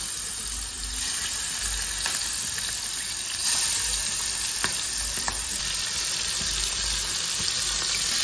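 Tiger prawns fry in hot mustard oil with a steady, close sizzle and crackle, occasional louder pops and faint stirring scrapes, no voices.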